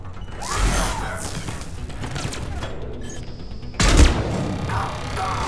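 Gunfire from a sabotaged turret in the sci-fi shooter Mass Effect 3, a steady mechanical rattle of shots throughout, with a louder heavy burst near the end, set against combat noise.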